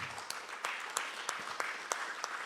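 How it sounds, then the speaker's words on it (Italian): Audience applause at a meeting of Veneto land reclamation consortia, a fairly sparse patter of hands with a few sharper claps standing out, steady and moderately close for a couple of seconds. "non so se poi facciamo un applauso"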